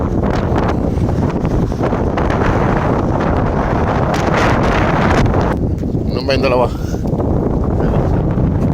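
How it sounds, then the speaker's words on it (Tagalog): Strong wind buffets the microphone in a constant roaring rush; a person speaks briefly near the end. "Ayan, malakas yung hangin."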